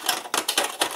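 Chocolate being grated for an anthill cake, four quick, close, raspy scraping strokes in a steady rhythm, heard alone.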